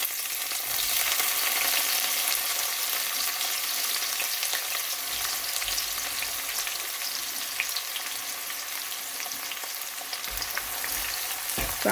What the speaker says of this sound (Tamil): இப்போ இந்த எண்ணெய்க்குள்ளே நாங்கள் இந்த வட்டி வச்சுருக்கிற வெங்காயத்தை போடுறேன்